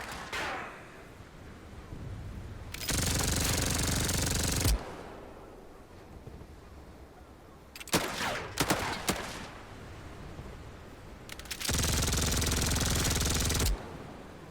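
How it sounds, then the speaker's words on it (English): Artillery fire in the WW2 strategy game Headquarters: WW2, with two long, loud sustained barrages of booming fire separated by quieter stretches and a short burst of sharp blasts in between, no talking. "Well, I guess I need to use the artillery on him."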